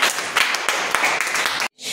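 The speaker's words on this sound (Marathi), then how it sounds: "योगितासाठी टाळ्या वाजवा एकदा" A class of children applauding a student during a Marathi reading lesson, a dense burst of clapping close by that cuts off abruptly near the end before a brief return of noise.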